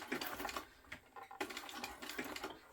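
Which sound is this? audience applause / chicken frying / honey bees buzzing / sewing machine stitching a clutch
sewing machine stitching a clutch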